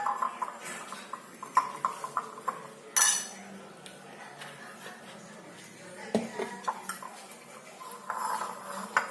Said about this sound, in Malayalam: ഇത് രണ്ടും കൂടി നല്ല രീതിയിൽ മിക്സ് ചെയ്യാം.